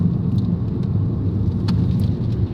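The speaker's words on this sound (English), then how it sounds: "you can probably hear the cabin noise a little bit. It has a little bit of just a drone" Steady low drone of car cabin noise at about 45 mph on back roads, a continuous rumble of road and engine with no talking.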